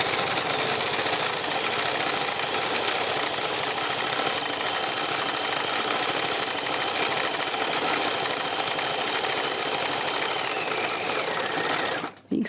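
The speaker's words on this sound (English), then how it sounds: "the beauty of free machine embroidery is that I'm just moving the fabric where I want it to go, and the machine just goes up and down" A sewing machine runs continuously for free machine embroidery on fabric, stitching sky lines on a textile landscape, with a fast steady whirring close by that stops abruptly at the very end.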